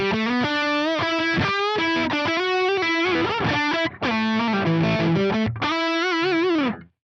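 Electric guitar lead tone through a Fractal amp on stock settings with the LT TV Mix 2 cab and an 80 Hz low cut, playing a smooth, sustained, distorted melodic phrase of held and bent notes, alone and loud.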